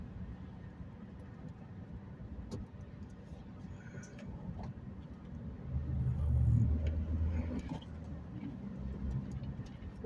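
A manual stick shift car rolls along a road with a steady low engine and road rumble that swells briefly midway, and a voice talks over it at times.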